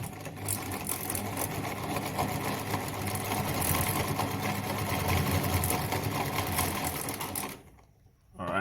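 A Singer 206K sewing machine stitches through fabric with a steady, continuous mechanical whir and needle clatter, close and fairly loud, before cutting off abruptly near the end.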